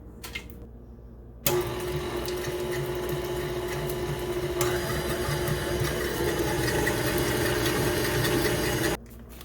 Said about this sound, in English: You can use a hand mixer.